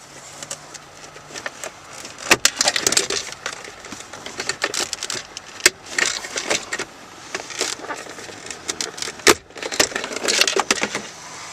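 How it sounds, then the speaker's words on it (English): A Honda Accord dash pocket assembly is wiggled loose and pulled out of its opening, giving close, irregular plastic clicks, rattles and scrapes with a few sharp snaps, and no talking. "remove this pocket assembly up out of the opening here"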